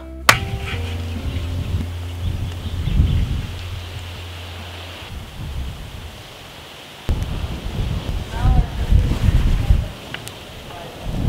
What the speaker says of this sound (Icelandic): það er svo mikið vindur